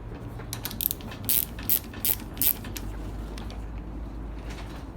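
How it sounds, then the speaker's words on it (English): A ratchet wrench loosening a bolt on a Toro self-propelled mower gives four short, clicking bursts close by over a low, steady background hum, with no talking. "So in order to do that is to loosen this bolt back up."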